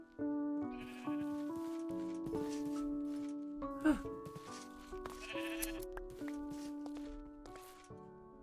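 Sheep bleating in Minecraft, a few short bleats amid layered game music and light footstep sounds, fairly faint overall.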